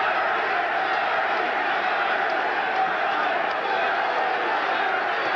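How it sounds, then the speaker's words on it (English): Boxing arena crowd at a heavyweight bout chanting a fighter's name, a dense, steady roar of many voices that sounds distant and continuous throughout. "the crowd starts a chant, Larry, Larry"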